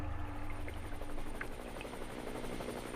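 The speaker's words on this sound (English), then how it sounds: "It was the sound of a chopper." A helicopter drones overhead with a low, steady rotor thrum. It sounds distant and faint and is heard alone over open water in a jungle rescue setting.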